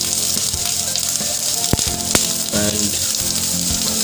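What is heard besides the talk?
garlic and green chili frying for chicken kalimirch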